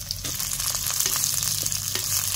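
Chopped onion frying in oil with curry leaves and chillies for a potato bhaji, a continuous close sizzle punctuated by a few light spatula scrapes, no talking.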